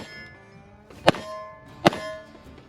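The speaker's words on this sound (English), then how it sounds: "Slide drops nicely" Slide of a 5.7 pistol with a threaded barrel slamming forward twice, each a sharp, ringing metallic clang with a short resonant tail, close and clear against a quiet room.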